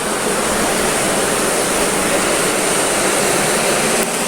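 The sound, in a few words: river flowing under the prayer house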